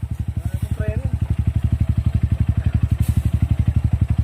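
Motorcycle engine idling steadily after hard braking left its brake rotor disc overheated, a rapid even low throb filling the whole stretch, loud and close, with faint voices briefly underneath.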